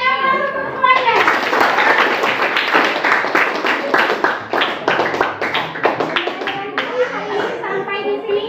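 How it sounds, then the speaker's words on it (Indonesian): Classroom applause for all the student groups in a Year 7 social studies lesson at a junior high school, a dense run of children clapping mixed with chatter and a few voices, steady and close for most of the clip. "kita beri aplaus untuk semuanya"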